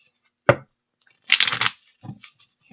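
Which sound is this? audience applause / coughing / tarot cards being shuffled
tarot cards being shuffled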